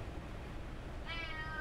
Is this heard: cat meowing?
yes